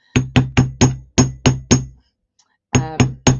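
Sharp metal hammer blows strike craft material in a brisk run of seven evenly spaced hits, a short pause, then three more, loud and close with no talk.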